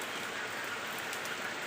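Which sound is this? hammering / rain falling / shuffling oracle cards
rain falling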